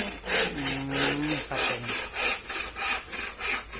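A hand saw cuts through thick local bamboo being trimmed to order size for chicken clips, a steady back-and-forth rasp of about eight strokes, close and alone.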